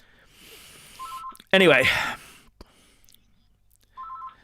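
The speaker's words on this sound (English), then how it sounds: "My telephone is ringing, and I'm going to give it a good stiff ignoring, so if you can hear it, I'm sorry." A telephone rings indoors with two short electronic tone bursts, faint and well separated, and a person speaks briefly in between.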